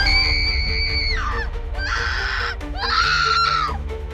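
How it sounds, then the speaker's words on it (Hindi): A woman's loud, drawn-out screams echo through a dark, abandoned house, two long wailing cries rising and falling in pitch over a low rumbling background. "और अचानक औरत की चीख गूंजी।"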